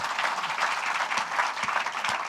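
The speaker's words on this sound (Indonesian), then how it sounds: "Kita berikan tepuk tangan buat Tuhan." Sustained applause from a church congregation, a thick wash of many hands clapping at an even level throughout, with a few sharper claps standing out.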